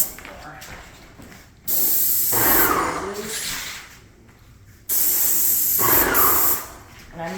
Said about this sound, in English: And I'm using a 211 spray head, which basically means it's got a 4-inch fan.